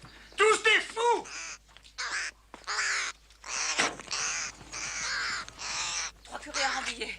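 Several crows caw in a string of harsh, separate calls, loud and close, with short gaps between bursts and speech-like voices mixed in.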